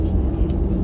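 A car overtaking on a double line on a road, heard as a brief, loud low rumble of engine and road noise.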